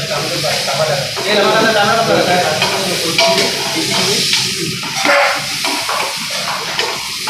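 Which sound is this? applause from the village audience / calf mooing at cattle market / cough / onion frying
onion frying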